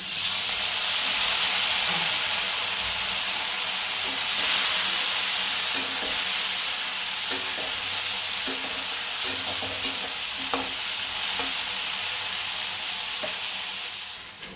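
Ginger and cumin paste sizzles and fries steadily in a pan for a fish curry, a constant bright hiss with faint stirring scrapes and small clicks along the way, close and fairly loud, with no voices.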